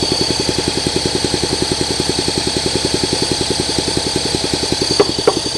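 A Honda SL125 motorcycle engine, freshly freed and tuned with its idle and air screw raised, idles with a steady, close chug of even firing pulses, ending with two brief clicks.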